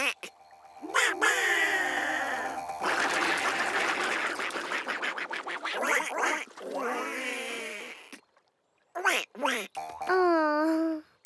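A cartoon duck quacks in a children's animated show, several short nasal calls arriving in bursts between stretches of music and a voice, with a clear run of quacks near the end.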